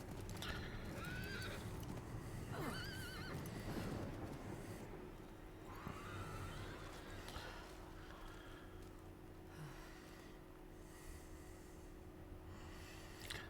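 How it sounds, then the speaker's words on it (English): A horse in the Diablo IV video game neighs and whinnies in distress as it is eaten, with snorts, heavy breathing and clip-clop hooves, a loud shrill whinny early on, then quieter snorting and shuffling. "That sure was the sound of a horse getting eaten."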